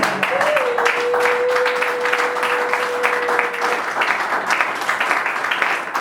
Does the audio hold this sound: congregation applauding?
yes